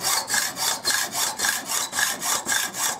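A hand saw cuts through a metal bolt in a garage with fast, even back-and-forth rasping strokes, about three per second, close and steady with no talking.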